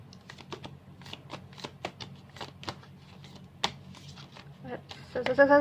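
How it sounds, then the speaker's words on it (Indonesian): Tarot cards being reshuffled by hand, a run of quick, light flicking taps in an irregular rhythm, fairly close and soft, ending in a brief louder rustle. "jadi aku harus kocok ulang"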